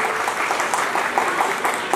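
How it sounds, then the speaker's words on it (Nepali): A theatre audience claps steadily for a Nepali comedian on stage, dense continuous applause with a few sharper individual claps standing out. "म तालीबाट अगाडि बढाउँछु।"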